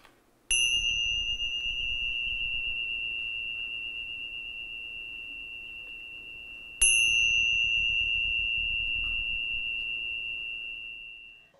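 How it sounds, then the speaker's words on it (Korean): A singing bowl is struck twice for a sound meditation. Each strike gives a clear bright ring that sustains for several seconds with a long slowly fading hum, heard alone in a quiet room. "싱잉볼과 불교 전통음악인 어산을 활용한 소리 명상이 이어지며"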